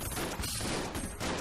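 A piercing ghost-bullet gun in Enter the Gungeon fires a dense, rapid volley of shots, loud and continuous through the short moment with no talking.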